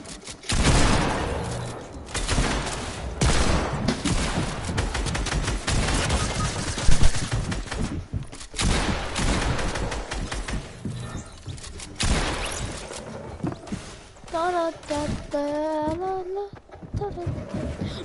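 Gunfire rattles in dense, continuous volleys, loud and close throughout with brief dips between bursts, and a few tonal game-like sounds toward the end.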